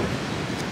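Strong wind gusting at around 40 miles per hour in Roswell, New Mexico, a steady broadband roar buffeting the microphone with no talk.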